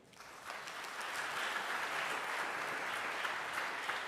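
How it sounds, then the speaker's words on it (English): Concert audience applauding a middle school jazz ensemble, a steady wash of many hands clapping that swells in over the first second and holds at an even, moderately distant level throughout. "I'd like to give them another round of applause."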